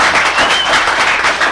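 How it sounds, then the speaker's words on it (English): Audience applause at a town board special meeting and public hearing, a dense, steady wash of many hands clapping filling the whole brief moment without any voices over it. "Thank you, but I don't want the applause."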